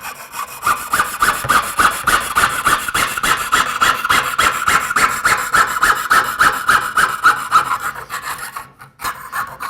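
A jeweler's saw cutting through metal sheet, a close, loud and steady rhythmic rasp of quick back-and-forth strokes that runs nearly continuously and stops briefly near the end.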